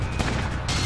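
A short, dense burst of rapid gunfire from the video game Fallout Tactics, loud and continuous for about a second.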